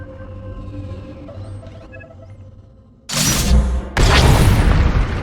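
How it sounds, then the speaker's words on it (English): Flux cannons on a battle station firing and disintegrating an Imperial capital ship in a sci-fi video game: after a low ambient hum, a sudden loud booming blast erupts, followed by a second heavy surge of roaring explosion. "With one movement, our flux cannons fire, and an Imperial capital ship is disintegrated."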